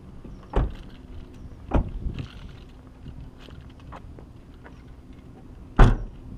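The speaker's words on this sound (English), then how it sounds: "We must close all the doors." Doors of a 2016 Honda Accord sedan are shut one after another, giving two solid thumps early and a third louder slam near the end, each short and close, with quiet rustling in between.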